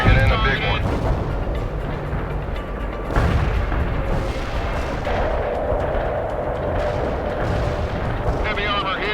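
Booming artillery explosions from a barrage in the World in Conflict strategy game rumble continuously and heavily, with a sharp blast at the start and another surge a few seconds in, mixed with voices and radio chatter.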